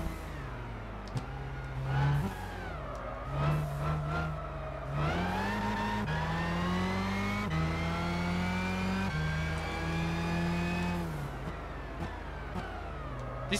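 A race car in Gran Turismo 6 accelerates hard, its engine climbing in pitch through repeated gear shifts with brief dips between, loud and close and heard on its own without talk.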